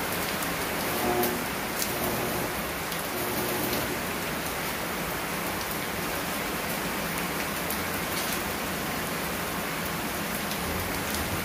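Rain falls steadily and evenly throughout, a constant hiss of drops on surfaces with no talking.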